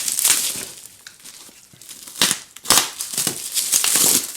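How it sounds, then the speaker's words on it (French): Bubble wrap is cut away from a black 2007 MacBook with scissors, giving close crinkling and crackling plastic sounds in irregular bursts, louder toward the end. "On va essayer de couper ce papier bulle sans rayer la coque."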